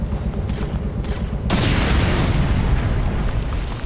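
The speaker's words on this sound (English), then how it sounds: "Someone threw a grenade and you missed" Grenade blast in the online shooter Ghost Recon Phantoms: a sudden loud boom that rolls into a sustained, dense rumble lasting a couple of seconds, preceded by a few faint clicks.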